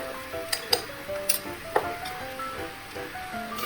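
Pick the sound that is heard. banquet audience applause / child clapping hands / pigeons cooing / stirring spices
stirring spices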